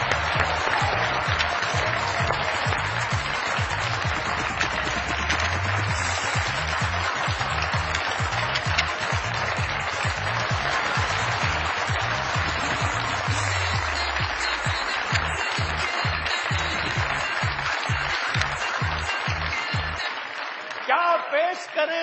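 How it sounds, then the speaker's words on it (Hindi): An audience breaks into sustained, dense applause welcoming Swara Bhaskar onto the stage. The clapping is loud and continuous for about twenty seconds before thinning out at the end. "बहुत सारी तालियों में वेलकम कीजिएगा।"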